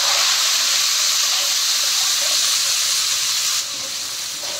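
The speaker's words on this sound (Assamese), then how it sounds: "এটা বিলাহী দিলোঁ বিলাহীটো পুৰা গুড়া কৰি ভাজি ল'ম" Tomato sizzles in hot oil in a pan with ginger, garlic and chilli while it is cooked down to a paste, a steady loud hiss that drops slightly toward the end.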